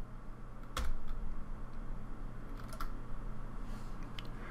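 A few soft, sparse keystrokes on a computer keyboard enter numbers while modeling in SketchUp, faint against a steady low room hum.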